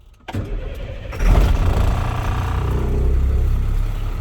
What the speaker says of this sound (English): So I'm going to turn the truck on now.